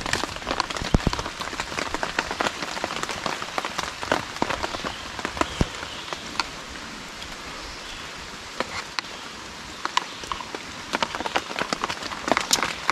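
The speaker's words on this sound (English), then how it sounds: "And it's raining." Steady rain falls on a tarp shelter in the bush, a dense patter of close raindrops with sharp individual drips striking the surface throughout, no talking.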